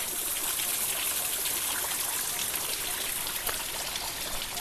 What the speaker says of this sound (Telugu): చెప్పాను కదండి మీకు కొండల అంచులోకి వెళ్ళి నీళ్ళు వస్తున్నాయని చూడండి ఒకసారి